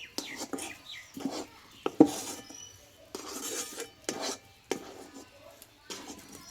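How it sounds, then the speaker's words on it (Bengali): Rice flour is stirred by hand in a bowl, producing soft, intermittent rubbing and scraping strokes, close and quiet, with gaps between bursts. "এই চালের গুঁড়োটা কিন্তু নরম নরম আছে একটু এভাবে একটু নাড়াচাড়া করে নিতে হবে"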